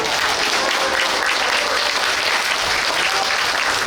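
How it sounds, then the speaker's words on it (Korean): Large audience at a Korean special lecture for Aerospace Day applauding a guest, the speaker's former high school homeroom teacher; dense, steady clapping fills the whole stretch at close range, with a few faint voices under it. "큰 박수 주십시오"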